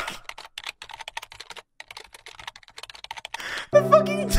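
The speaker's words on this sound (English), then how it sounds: "The typing noises." Rapid, uneven clicking of keys on a computer keyboard fills most of the stretch, close and fairly quiet, before a louder burst of other sound cuts in at the end.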